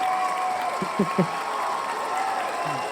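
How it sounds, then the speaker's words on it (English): A live audience cheers and applauds at length in a hall during a business talk for HVAC contractors, a steady broadband wash of crowd noise with a few louder bursts, while a voice speaks briefly over it. "Hold on, it's a long cheer. It's a very long cheer."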